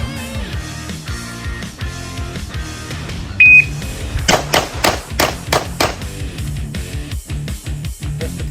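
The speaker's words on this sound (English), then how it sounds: "I'll actually put a timer on this time around." A single short electronic beep from a shot timer sounds during an IPSC bill drill at about 5 meters, quickly followed by a rapid string of loud, close pistol shots.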